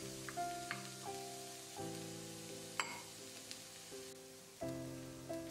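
Garlic and ginger sizzle faintly in a pan, a quiet, crackling hiss set beneath steady tonal background music.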